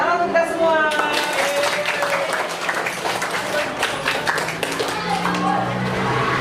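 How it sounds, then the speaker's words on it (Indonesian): A class of schoolchildren clapping their hands together in a classroom, a dense and loud burst of applause that lasts the whole stretch, with voices mixed in. "Tepuk tangan untuk kita semua."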